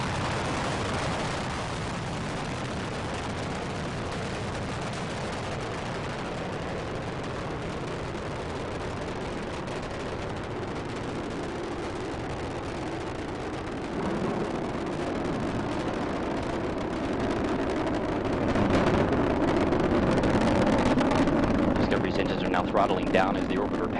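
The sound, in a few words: Space Shuttle Discovery rocket engines roaring during launch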